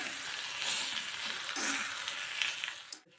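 Okra (bhendi) fries in oil with a soft, steady sizzle and occasional stirring scrapes, close but quiet, cutting off abruptly at the end.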